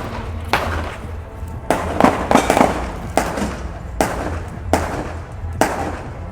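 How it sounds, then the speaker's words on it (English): Several sharp, loud cracks ring out in irregular bursts, some clustered close together, over a constant low rumble of background noise. "These seem to be gunshots."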